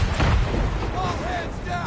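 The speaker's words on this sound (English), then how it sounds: "Man of war's firing!" Heavy cannon fire from a man-of-war warship in Assassin's Creed III Remastered, deep booming blasts rumbling close and loud, with shouted voices over the barrage.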